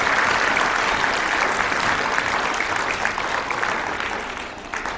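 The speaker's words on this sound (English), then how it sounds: "So let's give him a round of applause." An audience at a school veterans honors ceremony applauds steadily for an Air Force technical sergeant, a dense clapping that holds strong and then begins to taper off near the end.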